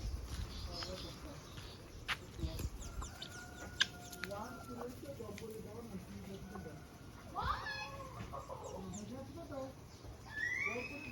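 Chickens clucking faintly at a distance among other birds on a farm, with short scattered calls and people talking quietly nearby.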